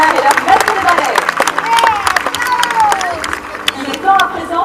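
Crowd at a dolphin show clapping and cheering, dense scattered claps with whistles and voices mixed in, loud and close, amid splashy background noise.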